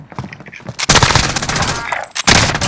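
Gunfire in the video game Call of Duty: Modern Warfare comes as loud, sharp bursts of rapid shots, split into a brief volley and then two longer rattling strings, close and dominant.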